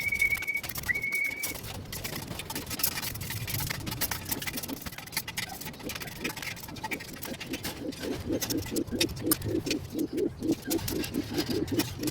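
Racing pigeons in a loft coo and stir in a steady, continuous murmur, with soft rhythmic fluttering and patter building toward the end; no voices.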